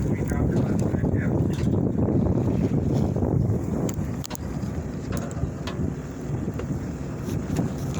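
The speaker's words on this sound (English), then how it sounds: "when you hear the engine start up, that means we're moving" A boat engine drones steadily on a fishing trip out on the water, a continuous loud rumble mixed with wind buffeting the microphone and splashing waves, with people talking faintly underneath.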